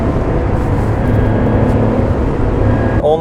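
Porsche 911 Carrera with about 215 horsepower, driven in third gear on a winding road, giving a steady, loud, close engine drone that holds constant throughout with a brief shift in tone at the end.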